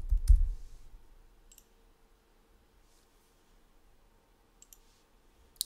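A few computer mouse clicks while saving in a website builder, sharp and close, one at the start then sparse faint clicks near the end over quiet room noise.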